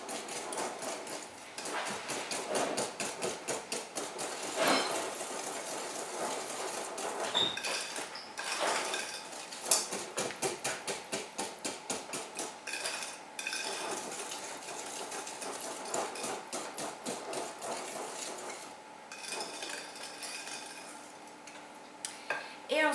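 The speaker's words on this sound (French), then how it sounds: "Donc après, on recommence notre touillage." Muffin batter with butter being stirred in a bowl, a continuous run of quick rhythmic scraping and tapping from the utensil against the bowl, fairly close and moderately loud throughout.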